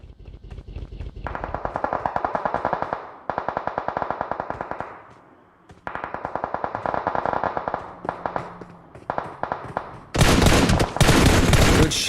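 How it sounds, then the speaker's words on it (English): Gunfire from a PUBG Mobile tournament match: long bursts of rapid automatic fire, loud and close, broken by short pauses, ending in a harsher, denser volley. "Shots from the Extreme Slayers group over there towards Mazexis."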